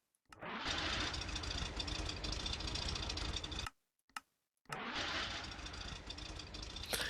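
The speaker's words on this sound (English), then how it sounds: "they use the old idle sound that the engines had as the background sound" A video game car engine idles in a steady low rumble, cuts out briefly, then settles back into the same even idle.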